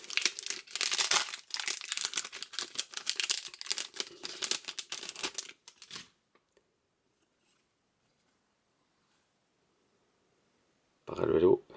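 Hobby box of Futera FC Barcelona 2024/25 trading cards being opened: close, busy crinkling and tearing of wrapping and card stock for several seconds, then a long silence and a brief final rustle.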